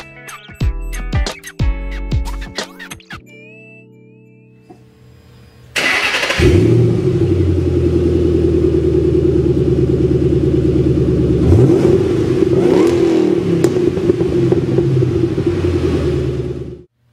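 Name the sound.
Ford Mustang Roush 427R 4.6 liter V8 engine revving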